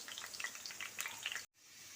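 Ginger garlic paste frying with green chillies in a pan for restaurant-style dahi aloo makes a soft, steady sizzle with small crackles, lasting about a second and a half before cutting off abruptly.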